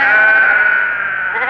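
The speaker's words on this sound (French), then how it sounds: "ce sont des moutons que vous attaquez" Sheep bleat loudly and close in a long, wavering cry that fills the moment, used as a sound effect during a French audiobook reading of Don Quixote, with no talking over it.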